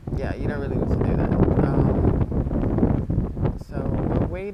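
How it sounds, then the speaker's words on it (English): Strong, gusty wind roars and buffets the microphone in a constant low rumble that swells and dips, with a voice faintly present beneath it. "we're waiting for the wind to calm down a little bit because it's really, really picking up"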